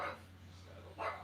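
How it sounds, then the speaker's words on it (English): A pug dog barks at a television indoors, two short yaps about a second apart heard faintly over a low steady hum. "I was hearing Chase bark at the evil TV again"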